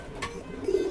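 A single racing pigeon, a 2K-banded bird, gives a short low coo close by, with faint background noise and no talk.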